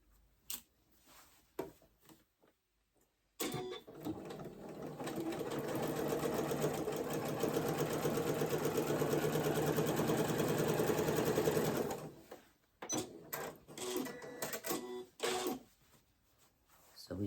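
A home sewing machine stitches a long, continuous pants seam for about eight seconds, a fast, even mechanical whir. It starts and stops abruptly, with quiet handling sounds and a little talk in the gaps before and after.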